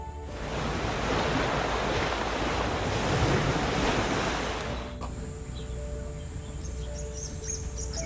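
Ocean waves break on the beach of Rani Island in Supiori, Papua, with a loud, close, rushing surf mixed with wind. The roar drops suddenly after about five seconds to a quieter shoreline wash.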